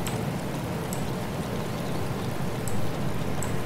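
Rain falling in the survival game DayZ, a dense continuous broadband patter with occasional sharp drip clicks, steady and fairly loud without voices.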